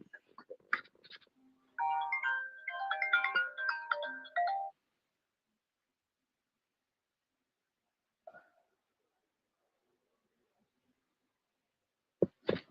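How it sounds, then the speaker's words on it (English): An incoming call sets off a phone ringtone, a bright melodic tune lasting about three seconds that plays alone in a quiet room, with only a few faint clicks before and after. "I'm getting a phone call."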